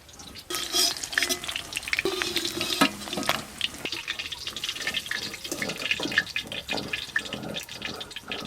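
Pieces of silver carp frying in hot oil in a pan, a dense steady sizzle with scraping and clattering as the fish is stirred and turned, loud and close throughout.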